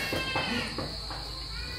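Hungry cat meowing a few times in quick succession, close by in a home while fish is being cooked, over a steady background hum.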